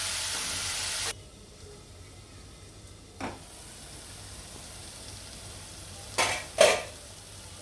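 Tomatoes cook under a lid in a pan for veg keema masala, giving a faint, steady low sizzle, with a brief hiss when the lid is lifted at the start and a few soft clinks and stirs later.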